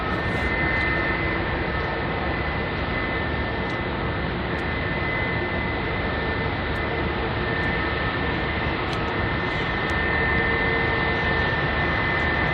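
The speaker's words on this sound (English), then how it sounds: "the aircraft that's just lined up onto runway 27 right is the British Airways A320-200" A British Airways Airbus A320-200 jet lined up on runway 27R at London Heathrow gives a steady, loud, broadband engine roar that holds evenly throughout, with no voices.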